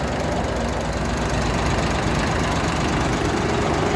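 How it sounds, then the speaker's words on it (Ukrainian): A tractor engine runs steadily at a farm near Hlevakha, Ukraine, with a dense, rough mechanical rumble, close and constant for the whole stretch. "Трактор на автопілоті."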